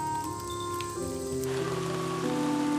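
Heavy rain pouring down in a dense tropical rainforest, a continuous hiss of falling water beneath tonal musical notes.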